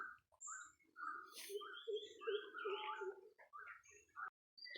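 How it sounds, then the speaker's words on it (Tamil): Birds sing on a quiet, misty estate morning, with several clear chirps and warbling phrases overlapping close by against near silence. "பறவைங்க சத்தத்தோடு அமைதியான காலை வேலை இது."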